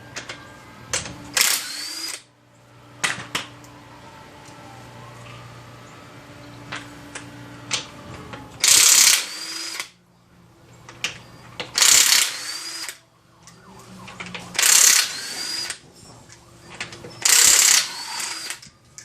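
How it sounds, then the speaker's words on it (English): A cordless Snap-on impact wrench works on bolts of a 2009 Nissan Altima, firing four loud hammering bursts of about a second each, with quieter tool clicks and handling noises in between. "I do use an impact on them."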